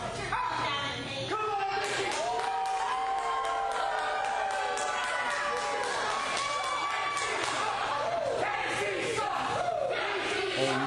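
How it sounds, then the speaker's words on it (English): Wrestling crowd at a VCW match of Mickie James vs. Kacee Carlisle, chanting loudly and steadily in support of Mickie James, with rhythmic shouts and cheers filling the hall throughout. "you can just hear by the chants of this crowd and the support they show towards Mickie James"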